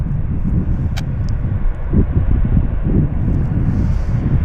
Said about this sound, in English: Let's get the sound of these engines starting.